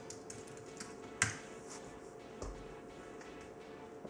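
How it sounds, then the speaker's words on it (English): Faint, sparse computer keyboard typing in a quiet room, with a few soft taps and one sharper keystroke click early on, followed by another light tap a moment later. "If I go to Amazon Prime Video and I type"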